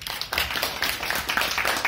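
Audience at a club meeting breaks into applause, a brief burst of clapping from a small group that starts abruptly and continues as a busy, fairly close patter of hands.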